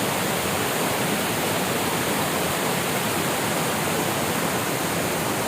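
Steady, dense roar of a large waterfall in Kozhikode, loud and continuous with no breaks, heard up close.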